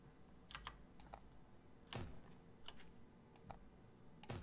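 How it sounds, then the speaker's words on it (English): Keyboard keys pressed while playing the survival game Night of the Dead: scattered single and paired clicky taps at close range, irregular and fairly quiet, with no talking. "you can adjust the height of your uh, foundation by pressing the arrow key on your keyboard."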